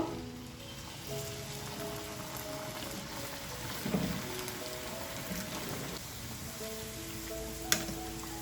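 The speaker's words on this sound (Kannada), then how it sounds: "ಎಣ್ಣೆ ಚೆನ್ನಾಗಿ ಕಾದಿದೆ ನೋಡಿ ಇವಾಗ ಸೂಪರಾಗಿರೋ ಸಮೋಸನ ಹಾಕೋಣ" Samosas frying in hot oil over a medium flame, a steady close crackling sizzle throughout with a few louder pops, no talk.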